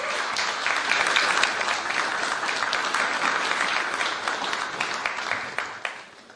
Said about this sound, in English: let's give a clap to our 14 contestants.